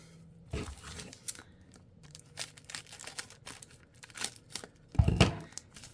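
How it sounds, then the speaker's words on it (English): Scissors cutting into a Paper Pumpkin card-kit package with coordinating envelopes, heard as close, crisp tearing, crinkling and snipping in irregular bursts, with a louder crunch of packaging near the end. "let me get my scissors and open this up here"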